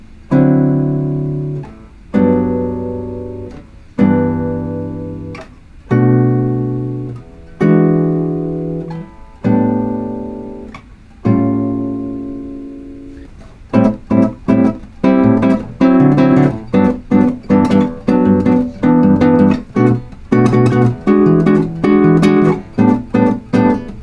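Guitar chords in a bossa nova progression, first as several sustained strummed chords with short gaps, then a brisk, syncopated bossa rhythm of short, clipped chord hits, played solo and close.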